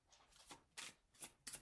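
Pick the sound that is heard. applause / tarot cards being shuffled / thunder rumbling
tarot cards being shuffled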